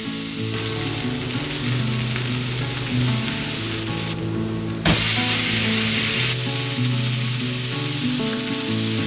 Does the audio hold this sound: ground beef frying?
yes